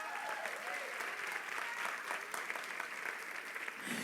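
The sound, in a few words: church congregation applauding loudly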